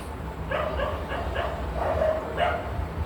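Dogs during the rainy season bark and yip in a series of short, mid-distance calls with whimpery tones, over steady outdoor background noise.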